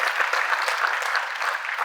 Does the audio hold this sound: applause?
yes